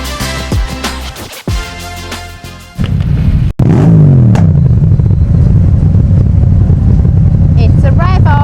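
Engines rev loudly at a Christmas charity ride with tractors and motorbikes, rising from a rough idle into a sustained close-up roar, with people talking over the noise.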